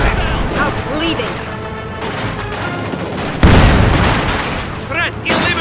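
Gunfire and a loud explosion in the Company of Heroes 2 war game set in Stalingrad, with a sharp boom midway over a constant battle din while game voices talk throughout.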